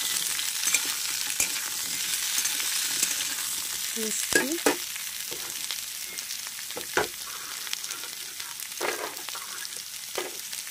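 Amaranth stems, brinjal and spices frying in a pan: a steady, fairly loud hiss of sizzling oil runs throughout, with occasional soft knocks and scrapes of a stirring spoon, close by and without talk.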